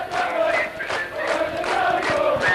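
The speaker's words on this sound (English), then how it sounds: "As the crowd come back to life" A rugby league crowd at a Workington Town versus Rochdale Hornets match cheers and roars in a loud, sustained swell of voices and whistles.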